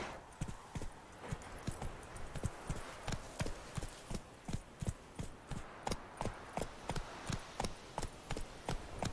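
Hooves of Roach, a horse in The Witcher 3, pound out a steady galloping clip-clop across the whole stretch, close and rhythmic with a brief voice at the start.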